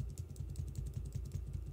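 Computer keyboard arrow keys are tapped repeatedly in a quick, even rhythm of soft clicks, close and fairly quiet, with no voices over them.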